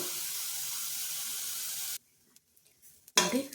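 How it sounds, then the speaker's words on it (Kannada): Greens frying in a pan for leafy chapati dough give a steady, loud sizzle that fills nearly two seconds, then cut off into near silence before a brief sharp sizzle bursts back at the end. "ಚೆನ್ನಾಗಿ ಫ್ರೈ ಮಾಡ್ಕೊಳ್ಳೋಣ ನಾವು"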